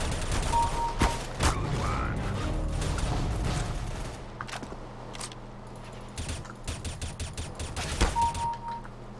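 Revolver shots in Counter-Strike: Global Offensive, with a few heavy cracks early and then a quick run of sharp, clicky shots and mechanical clatter later on.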